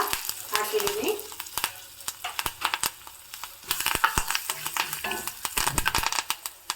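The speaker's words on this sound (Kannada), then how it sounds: "ನೋಡಿ ಒಗ್ಗರಣೆ ಆಗ್ತಾ ಬಂದಷ್ಟು ಕರಿಬೇವಿನ ಸೊಪ್ಪನ್ನು ಸಹ" Curry leaves drop into hot oil for a South Indian tempering with urad dal, dried red chilli, asafoetida and turmeric, giving a busy, crackling sizzle full of sharp pops and spatters close by, with no talking.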